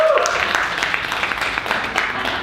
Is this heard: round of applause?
yes